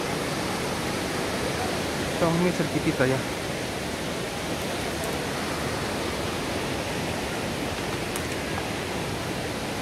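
El Chiflón waterfall, a broad steady roar of falling water filling the whole stretch, with someone briefly speaking over it.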